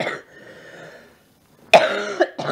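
A person with a cold lets out a raspy cough, a rough close burst after a quiet breath, then a second shorter hack.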